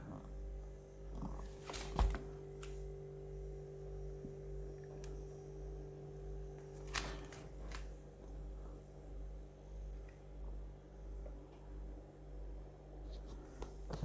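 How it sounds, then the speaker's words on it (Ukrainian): A low, steady mains-like hum of a running refrigerator compressor powered by a 2kW inverter, quiet and continuous, with a couple of brief clicks and knocks. "Ні, працює компресор."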